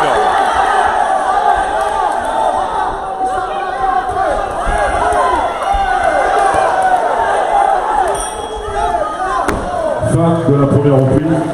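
A loud arena crowd at a fight event roars and cheers at the end of a round, a dense sustained wall of voices with shouts, claps and thumps, close and continuous.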